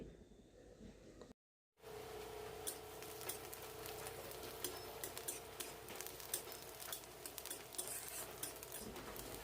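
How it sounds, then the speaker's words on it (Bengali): Steady, quiet sizzling and crackling of onions frying lightly in a pan over a low gas flame, with a brief dropout near the start and occasional clinks of a utensil. "গ্যাসের ফ্লেমটা লোতে রেখে পেঁয়াজগুলো হালকা করে একটু ভেজে নিতে হবে"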